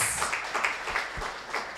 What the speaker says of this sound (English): Please, can I have a final round of applause for the guests?